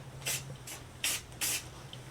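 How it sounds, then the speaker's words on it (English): Short bursts of walnut wood stain sprayed from a can onto the sides of a wooden candle holder: four close, crisp hissing puffs of uneven length separated by brief pauses, with a low hum underneath. "just spray a little bit on the sides here."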